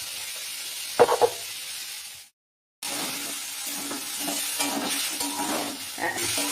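Chana tadka masala with green chillies and Kashmiri chilli powder sautés in a pan after a splash of water, a soft sizzle and stirring scrapes broken by a brief silent gap midway.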